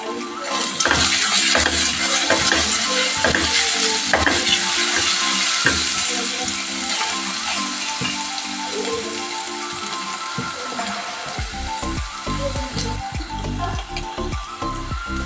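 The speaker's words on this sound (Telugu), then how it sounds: "బాగా మిక్స్ చేసుకుందాం." Mushrooms and curry leaves fry and sizzle loudly in a pan for a restaurant-style mushroom curry, with steady crackling throughout and stirring scrapes that grow choppier and more rhythmic toward the end, with no talk.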